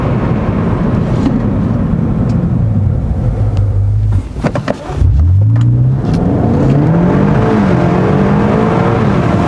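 A BMW M5 Competition engine growls loudly through its exhaust, dips briefly as the driver shifts, then revs back up into a rising, rumbling drone.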